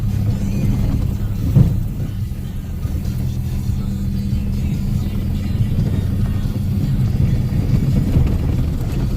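A pickup truck engine strains with a steady, heavy low rumble on a slow, rough tractor recovery drive, with a brief jolt early on and no talk over it.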